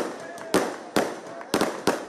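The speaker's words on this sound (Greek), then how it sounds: "Η νύχτα στη Χιμάρα έχει γίνει μέρα από τους πυρσούς και τα πυροτεχνήματα." Fireworks burst at a nighttime welcome celebration with torches in Himara, four sharp booming cracks spaced unevenly over crowd murmur and chatter, loud and fairly close.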